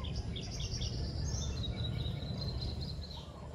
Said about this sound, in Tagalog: Tingnan nyo guys, ang daming ibon dito